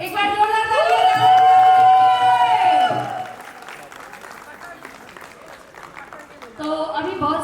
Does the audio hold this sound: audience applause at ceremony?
yes